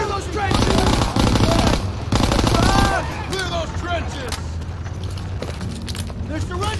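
Loud, sustained machine gun bursts from Call of Duty WWII's World War II battle, rapid rattling fire that thins out midway while shouting voices carry on over the combat.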